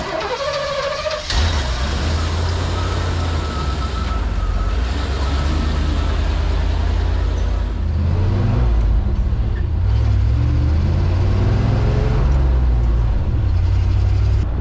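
A tow truck's engine starts up and drives along the road, a loud, steady low rumble from the cab whose pitch rises and falls as the truck accelerates and shifts.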